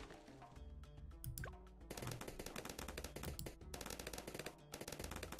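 Twin guns firing in Bloons TD 6, rapid rattling bursts of repeated shots over a busy game soundscape, with brief gaps between volleys.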